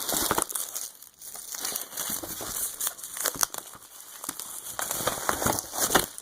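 Plastic shrink wrap being torn and peeled off a Hyrule Historia hardcover book, with close, loud, irregular crinkling and crackling bursts that continue throughout.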